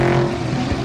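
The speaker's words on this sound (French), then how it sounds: "La Corvette qui passe le bac à gravier à la chicane Michelin" A Corvette race car running through the gravel trap at the Michelin chicane during the 2017 Le Mans 24 Hours, a steady loud engine drone with no voices over it.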